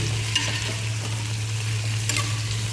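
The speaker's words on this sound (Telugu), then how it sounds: "గోంగూర వేసిన తర్వాత మంచిగా కలుపుకొని" Gongura mutton curry with mint being stirred in a pan in a home kitchen in Dubai, a constant close frying sizzle with faint scraping of the spoon and no talk.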